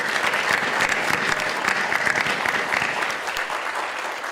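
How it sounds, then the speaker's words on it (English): Steady applause from a sizable audience for a panel discussion, dense clapping sustained throughout without pause, fairly close and loud. "another A round of applause, please, for our panelists"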